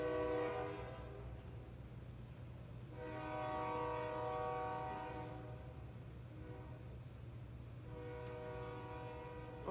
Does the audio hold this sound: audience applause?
no